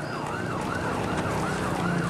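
Ambulance sirens wailing in a steady rising-and-falling sweep, loud and continuous, as dozens of ambulances rush students to a hospital in West Bandung, Indonesia.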